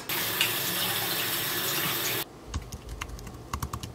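A tap runs steadily for hand washing in a home kitchen during baking, then shuts off, leaving scattered small clicks and clatters.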